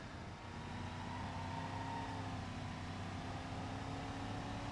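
Simulated car engine in a BeamNG.Drive track car with shot brakes, droning steadily at moderate, even level on a straight with a constant low tone and no voices.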